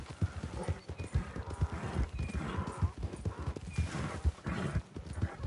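Horse hooves gallop in a fast, continuous rhythm in the Red Dead Redemption 2 video game, close and prominent, with the horse snorting now and then.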